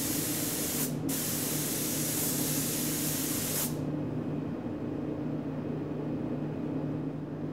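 An HVLP spray gun applies NGR dye stain, making a loud continuous hiss up close. The spray breaks off for a moment near the start, then cuts out about halfway through, leaving a quiet room tone.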